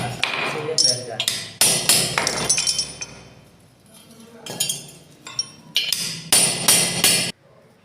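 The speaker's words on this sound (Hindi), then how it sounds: "उसके बाद जो है इसको हथौड़ी मार करके बिठा देंगे प्यार से, जैसे आसानी से ये बैठ जाए।" A hammer taps a cone set into the wheel of a TVS XL100 moped, giving bursts of sharp metallic strikes in quick clusters with brief pauses, close and loud, while someone speaks in between.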